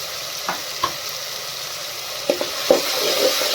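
Onions frying in a pan as the base for a green cowpea (chora) curry with gram flour, a steady broadband sizzle with a few soft stirring scrapes and clinks, close and alone with no talking.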